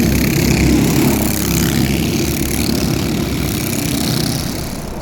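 An old Prokart racing kart engine drones loud and close, a constant buzzing roar mixed with rushing wind, holding steady and then easing slightly toward the end, with no voices.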